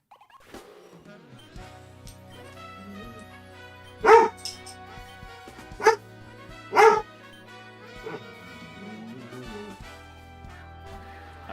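A dog barks three times in loud, separate bursts over a steady low hum and faint background music, with a smaller whimper-like yip afterward.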